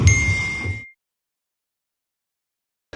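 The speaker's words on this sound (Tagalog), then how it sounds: "your phone sends a notification" A phone notification ding, one bright, clear chime that rings briefly and cuts off, followed by silence and then the start of another sound right at the end.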